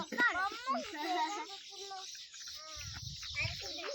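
Busy chorus of high, chattering weaver bird calls with quick repeated chirps, close by at a lake, while a child and an adult talk over them.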